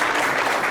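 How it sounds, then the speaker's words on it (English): Brief burst of dense audience applause at a chamber of commerce annual meeting, steady and close throughout with no pauses. "I want to give them a big round of applause"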